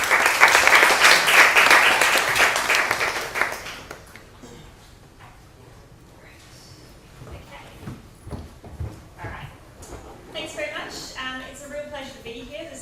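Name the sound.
audience applause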